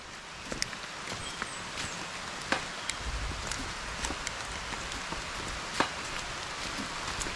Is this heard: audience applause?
no